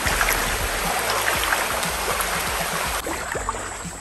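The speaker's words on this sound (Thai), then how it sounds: "น้ำจะไหลแรงนะคะน้ำไม่ขังนะคะ" A strongly flowing stream beside a fruit orchard rushes and splashes steadily at close range, a continuous broadband wash of water with no voices over it.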